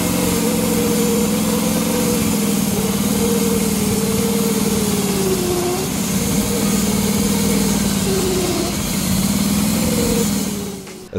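A rented sawmill engine runs steadily while milling large oak, a loud droning motor whose pitch sags and recovers under load several times before cutting off at the end.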